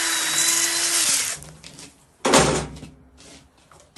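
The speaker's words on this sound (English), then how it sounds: "You can see I drilled another hole here. I did one in the sidewall. Here, I'll do another one in the sidewall." Power drill boring a hole through the sidewall of a dirt bike tyre on a CRF150, a steady close whine for over a second, then quieter handling noises and a second short burst of drilling.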